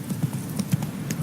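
Hooves of Roach, the horse in The Witcher 3 video game, clip-clopping in a steady walking rhythm, close and clear with no talk over them.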